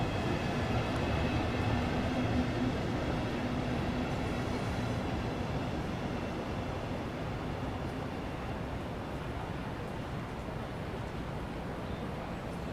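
Javelin high-speed train running in Train Sim World 2, a steady, loud rumbling drone with a faint mechanical hum that continues unbroken throughout, with no talk over it.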